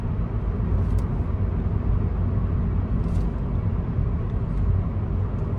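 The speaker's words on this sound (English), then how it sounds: "I'm driving a Shenzhen Edo 2025. It's a wonderful and smooth drive." A Shenzhen Edo 2025 car driving in eco mode on King Fahad Road past roadworks, with a steady loud road and engine rumble from inside the cabin and no break in the noise.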